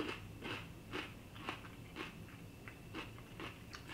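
Crisp bites and chews of a freshly picked, soil-grown Diva cucumber, a run of about eight quick crunches in a steady rhythm, close to the microphone and quiet, with no talking.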